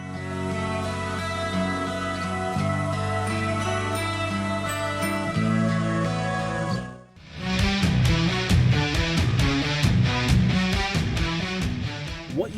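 A passage: dense sustained keyboard-and-guitar chords swell for several seconds, then after a brief dip the full band crashes in with busy drums and driving rhythm, loud and alone.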